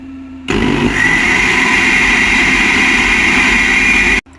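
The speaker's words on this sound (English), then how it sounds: "I'm just going to put some water in there as well and blend it up." A blender starts abruptly and whirs loudly and steadily for a few seconds, blending a soup mixture with added water, then cuts off.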